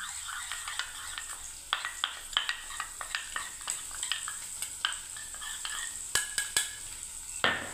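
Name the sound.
paneer frying in a pan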